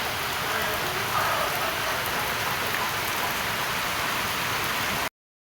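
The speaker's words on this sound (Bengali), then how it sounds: "কি পরিমাণ বৃষ্টি।" Heavy rain pours down in a dense, constant roar, drumming on surfaces nearby without a break, then cuts off abruptly.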